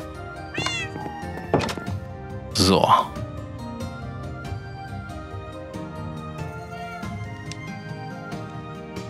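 Cats in the video game Minecraft meow several times, one loud drawn-out meow standing out, amid game clicks and thumps, while someone speaks German over them.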